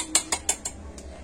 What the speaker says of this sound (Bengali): তো ব্যাটারটা আমি আর একবার এইভাবে নেড়ে নিচ্ছি।